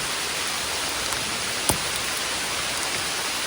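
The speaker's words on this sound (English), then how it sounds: "it's raining really good right now" Steady outdoor rain hisses evenly across the whole stretch, with one brief sharp click partway through and no voices.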